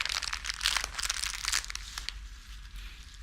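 Clear plastic film crinkles as it is wrapped around flowers during a floristry lesson, a dense burst of close crackling that eases off into quieter rustles.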